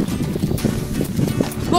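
Horses' hooves clip-clopping steadily during an endurance ride race, a continuous rhythmic patter close by, with a rider's voice and breathing mixed in throughout.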